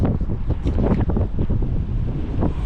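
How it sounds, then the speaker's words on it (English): Strong, cold gusty wind at a beach in Fukuoka, Japan roars and buffets the microphone, with a rushing, broadband sound like ocean surf blending in beneath it. "Go to a beach and look at the ocean while it's just very windy and cold."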